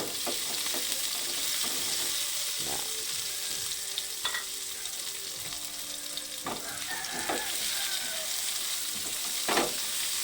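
Tomatoes sizzle and crackle steadily in a pan with bitter gourd, close and continuous, with occasional stirring scrapes and clicks over the frying hiss.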